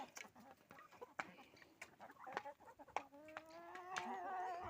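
Hens cluck in short, scattered bursts at close range as they are let out and fed in a farmyard, then one bird lets out a longer drawn-out call at the end.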